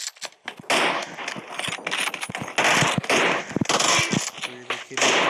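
Rapid bursts of automatic gunfire from the PUBG New State mobile battle royale game, with dense crackling shots that come in loud clusters across the clip.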